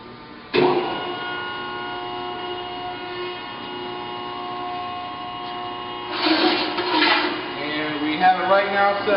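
A used 60-ton Wysong CNC hydraulic press brake, model MTH60-72, powers up with an abrupt start and settles into a steady, droning motor hum with layered tones. Later, louder, uneven bursts that may be a voice sit over the hum.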